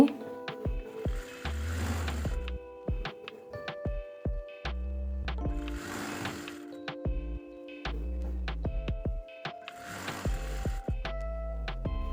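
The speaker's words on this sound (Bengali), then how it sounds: "এখন আমি একত্রিতভাবে নিচ সেলাই দিয়ে নিচ্ছি" Sewing machine stitching the bottom hem of a kameez, short whirring runs separated by pauses, with ticks and clunks of fabric handling between them, moderately close and without talk.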